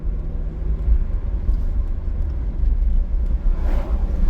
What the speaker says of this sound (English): that car was noisy